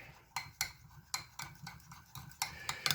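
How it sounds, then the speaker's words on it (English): A spoon stirring melted butter mixed with dried parsley flakes and garlic powder in a small bowl, quick irregular clicks and scrapes against the dish, close and fairly quiet, no voices. "Gonna give that a good stirring."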